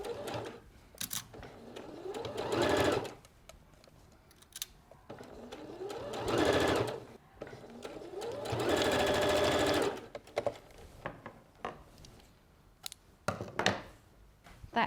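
A home sewing machine stitches four layered bra cup pieces along a curve, running in several sustained whirring bursts separated by pauses, close and fairly loud, with small clicks and handling noises between runs.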